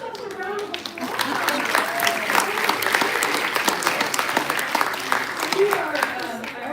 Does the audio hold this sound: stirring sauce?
no